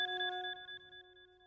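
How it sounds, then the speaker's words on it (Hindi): A telephone rings with a bright, warbling electronic bell tone, steady and fairly faint, with no talking. "नहीं तो ये फोन बजता ही रहेगा"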